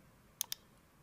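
Two quick, crisp computer mouse clicks sound close together in a quiet room, with nothing else around them.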